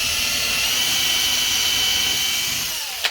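A steady, high-pitched whine of a small power drill with a 2.5mm bit running continuously close by, ending with a brief click as it stops.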